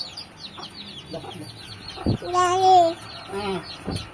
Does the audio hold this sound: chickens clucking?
yes